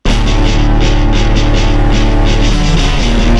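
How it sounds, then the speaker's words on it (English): Thick stacked synths panned wide over a deep bass, both built in the Serum synthesizer, pulse loudly and continuously with a steady rhythmic throb throughout, no voices present. "Under that is these crazy stacked synths that I made on Serum, which is just like 2 really fat synths being panned left and right with everything"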